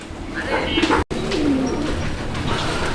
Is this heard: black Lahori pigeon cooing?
yes